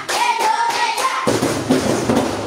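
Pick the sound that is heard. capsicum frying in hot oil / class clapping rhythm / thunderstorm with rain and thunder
class clapping rhythm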